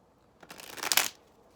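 A deck of tarot cards is shuffled once, close and fairly soft, a quick riffling burst of under a second that rises and then stops, leaving near silence on either side.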